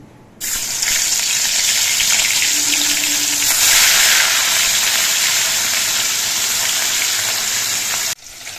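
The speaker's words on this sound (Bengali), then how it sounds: "সর্ষের তেলটা গরম হয়ে যাওয়ার পর এই তেলের মধ্যে দিয়ে মাছগুলো ভেজে নিচ্ছি" Rohu fish pieces fry in hot mustard oil in a pan, giving a loud, steady hiss of sizzling that starts abruptly, holds evenly for about eight seconds, then cuts off.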